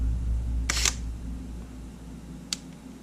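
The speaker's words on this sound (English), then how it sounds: "I'll just disclose the crunchy shutter." Sony A7 mirrorless camera with a crunchy-sounding shutter, firing twice: a longer gritty mechanical clack near the start and a short crisp click about two seconds later, close up against a quiet room hum.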